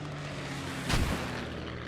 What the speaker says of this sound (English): Some more strafes coming in.